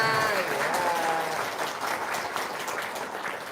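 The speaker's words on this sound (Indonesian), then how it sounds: "Tepuk tangan dong" Audience applause at an event near a horse-jumping tournament, a burst of clapping under some background voices that gradually thins out.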